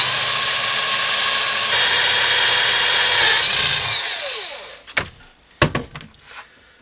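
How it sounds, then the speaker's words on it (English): A power drill bores out a part held in mole grips on a Triger's Broom hard tail bobber restoration. A loud, steady whine runs for about four seconds and then winds down, followed by a couple of sharp knocks and clicks. "So I'll drill that out."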